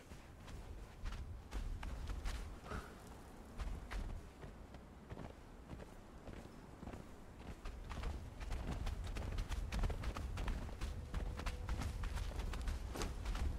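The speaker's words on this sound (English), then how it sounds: "Let's get on the horse." Hooves of a horse in a video game clip-clop steadily at a brisk, even rhythm, close and continuous over game ambience and a low rumble that swells in the second half.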